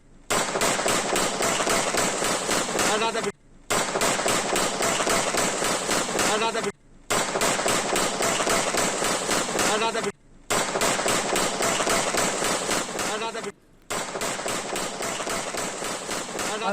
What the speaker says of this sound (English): The third firing at Caps Cafe within a span of 4 months.